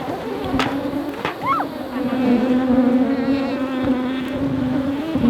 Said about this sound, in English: it is making the already aggressive bees even more mad